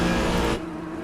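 Race cars in a PC racing game at Monza, including an Audi, hum past with a loud steady engine drone that drops off sharply after half a second.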